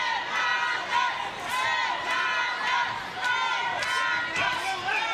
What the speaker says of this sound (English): Crowd chanting Hernandez behind me.